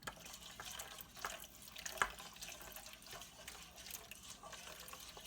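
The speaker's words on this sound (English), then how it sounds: "So this is adding first 500 and then 200 more milliliters of water, of hot water, to the Jello mix." Hot water pours into Jello mix, 500 then 200 more milliliters, making a steady close liquid splash and trickle with a brief louder gush midway, no talking.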